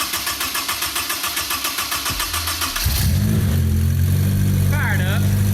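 A rebuilt, previously wrecked Honda S2000 cranks with a rapid rhythmic starter whir for about three seconds, then fires and settles into a loud, steady idle close by, with voices briefly heard over it.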